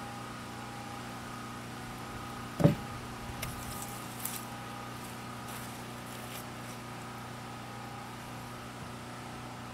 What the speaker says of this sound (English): If you hear a generator in the background